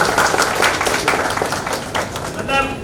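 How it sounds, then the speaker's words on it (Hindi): Brief clapping from guests at a house-warming celebration while honours are presented, steady and fairly close, with speech running over it. "हम लोग ताली से तो कंजूसी न करें"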